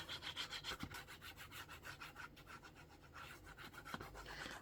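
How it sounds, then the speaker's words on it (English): A paper trimmer slices through paper while trimming journal pages, giving a steady close rubbing, scraping sound with a few sharper clicks, alone with no talk. "I'll just trim it all up on the trimmer so it's all nice and straight and even"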